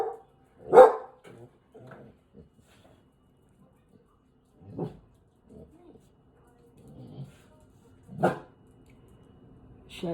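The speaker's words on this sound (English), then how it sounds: "my dog heard another dog barking outside, so she started barking" A pet dog barking in answer to another dog barking outdoors, a few sharp, loud barks spaced several seconds apart, with quieter faint sounds in between.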